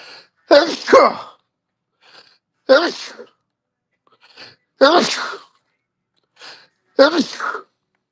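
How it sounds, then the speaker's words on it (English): A person sneezes repeatedly at close range: four loud sneezes in roughly two-second spacing, each one sharp and forceful, with faint breaths in between. "I sneeze more than anybody I know."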